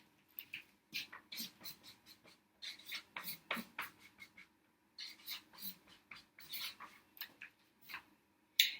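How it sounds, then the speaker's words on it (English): Pen or marker writing an equation by hand, heard as short scratchy strokes in irregular bursts with brief pauses between them, close and quiet with no talking. "So now I'm going to write my factored form equation."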